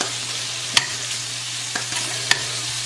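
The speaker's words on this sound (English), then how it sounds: "we're going to render this bacon down" Bacon renders its fat in a hot pan for carbonara, giving a constant crackling sizzle with a low hum beneath it and a few sharp ticks and spatters.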